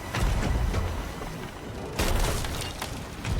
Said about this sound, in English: Hitting some cannons.